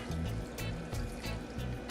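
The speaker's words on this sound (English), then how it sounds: "you're gonna throw a little more water inside of it." Water poured into a blender while making salt mackerel and rundown, a soft continuous trickle and splash with faint low thumps, heard alone and fairly quiet.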